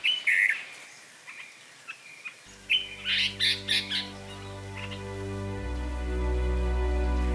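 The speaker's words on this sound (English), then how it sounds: "This bird got the name as crested serpent eagle" A crested serpent eagle in forest gives a series of clear, ringing calls, several short notes in a loose rhythm over the first few seconds, before a steady low droning hum builds and fills the rest.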